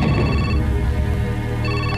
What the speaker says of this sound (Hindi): ए फोन उठा, चल उठा।